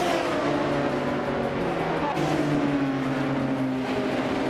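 A 1996 Osella P20 BMW race car engine roars steadily in a racing video game, a loud continuous engine drone with shifting pitch and a brief gear-change break midway.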